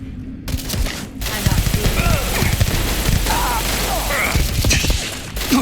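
Rapid, loud automatic gunfire in Starfield Shattered Space, a continuous fusillade with mechanical clatter running almost the whole time after a brief pause near the start.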